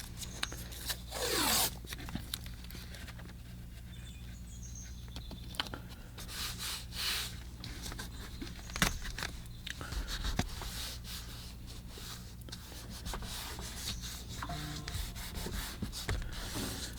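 Masking tape torn from a roll and pressed down to fix watercolor paper to a board, with close crinkly rips, rubbing and scratchy handling noises at a quiet level.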